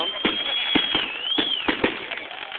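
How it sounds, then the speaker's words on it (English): Fireworks at an outdoor show burst repeatedly in an irregular series of sharp booming pops, some near and some more distant, over a steady background with a rising whistle. "A lot of fucking fireworks, man."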